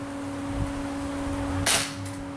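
Airsoft BBs striking a failed 3D-printed target, one sharp snapping impact rising from a steady background hum, then a fainter tick shortly after.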